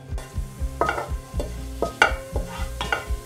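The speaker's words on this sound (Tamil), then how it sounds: "இப்போது நெய் காஞ்ச உடனே இதில் ஜீரகம் ஆட் பண்ணிடலாம்." Cumin seeds sizzle in hot ghee in a pan for dal khichdi, with repeated rhythmic stirring scrapes over a soft frying hiss, close and moderately quiet.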